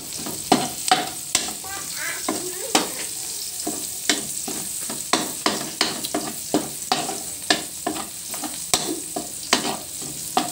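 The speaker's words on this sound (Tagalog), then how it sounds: "Dapat lutong-luto yung mga sibuyas, bawang." Onions and garlic sauté in a pan for a Filipino squash, string bean and bitter melon stir-fry, with a steady sizzle broken by frequent sharp scrapes and clinks of a utensil stirring, close and fairly loud, with no talking.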